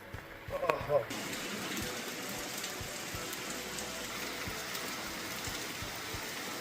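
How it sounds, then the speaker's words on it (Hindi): Heavy rain falls in the mountains as a dense, steady hiss that runs unbroken throughout, with a brief louder rustle near the start. "आज तो जम के बारिश हो रही है यार"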